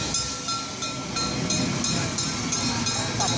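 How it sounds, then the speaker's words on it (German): A special steam train from Schwarzenberg rolls into the station at a railway festival, a continuous rail rumble and hiss with faint rhythmic clatter, heard from a moderate distance. "Wir begrüßen den Dampfsonderzug aus Schwarzenberg."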